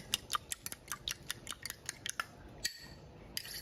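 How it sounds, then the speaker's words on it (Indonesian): A whisk or fork beats two eggs in a bowl for a Javanese-style brown sugar moss pudding, quick, sharp clicking taps in an irregular rapid rhythm, close and fairly quiet. "Dan 2 butir telur,"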